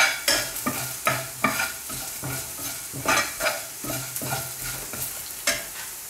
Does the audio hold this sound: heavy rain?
no